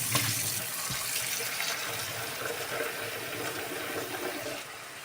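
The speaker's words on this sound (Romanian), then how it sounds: "O să pun puțină apă" Water pours steadily into a frying pan of vegetables being cooked, a continuous close splashing rush that hisses at the start and tapers slightly near the end, with no talking.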